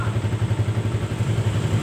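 A Yamaha Vixion motorcycle with a charging fault and weak battery idles close by, a steady low throbbing pulse with a rapid even rhythm and no talk.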